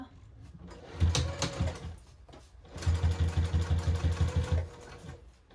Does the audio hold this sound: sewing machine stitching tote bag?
yes